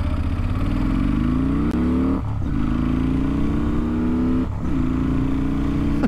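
A Kawasaki VN15 cruiser motorcycle pulls hard through the gears, heard loud and close from the rider's position. Its engine note climbs in pitch, drops briefly at two gear changes, then climbs again, with steady wind noise underneath.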